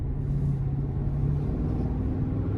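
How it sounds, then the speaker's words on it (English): A 2023 GMC Sierra 1500 Denali Ultimate pickup with a 6.2-liter V8 in sport mode gives a low, steady engine rumble under light throttle, heard from inside the cab with no voices. "So let's go ahead and put it into sport mode, and we'll just give it a little bit of throttle here."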